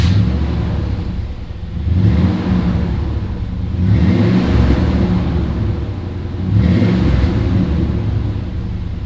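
A pickup truck engine, a Chevy S10 with a new muffler, idles and revs in slow swells, a deep throaty rumble rising and falling three times, close and loud with no talking.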